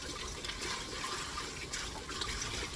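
Raw blue crabs being scrubbed clean under water, shell and between the legs, producing a quiet, continuous trickle and splash of running water with no talk.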